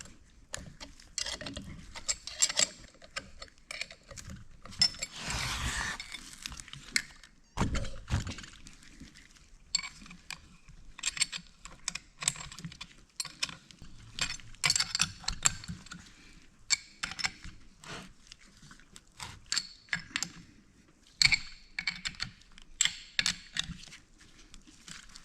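Close, quiet metallic clicks and ratcheting come from bolts being snugged up on a John Deere two-cylinder power steering pedestal during a rebuild, in irregular short runs with light clinks of tools.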